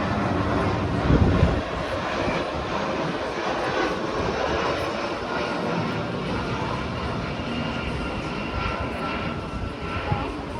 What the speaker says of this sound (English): you'll have heard that the hotel is on the flight path, but what's it actually like?